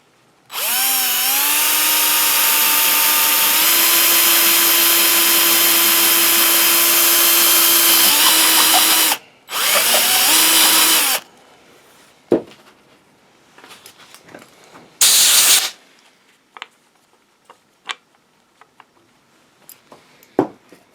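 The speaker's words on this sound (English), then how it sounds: "I'm using a 1-inch Forstner bit. And let's do it." Power drill boring into a collar ring with a 1-inch Forstner bit while building a studio-scale AT-ST model, a loud close whine rising in pitch for about eight seconds, then a shorter second burst and a brief third one, followed by quiet clicks and handling.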